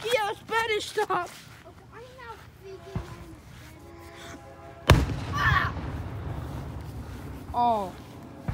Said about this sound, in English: that one was a legitimate explosion